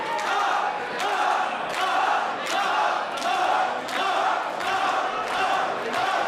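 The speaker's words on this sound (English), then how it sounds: "Jacky Lee getting this crowd to chant up, up, up." A wrestling crowd at an indoor show in Vancouver chants in loud unison, a rhythmic beat repeating roughly every 0.7 seconds that fills the hall steadily throughout.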